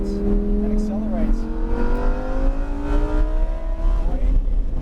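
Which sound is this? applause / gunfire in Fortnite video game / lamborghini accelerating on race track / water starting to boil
lamborghini accelerating on race track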